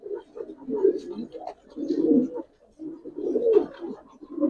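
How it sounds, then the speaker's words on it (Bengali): Giribaz pigeons in a loft cooing in repeated low, throaty rolls, close and fairly loud, with brief pauses between bouts. "দেখেন কবুতর,"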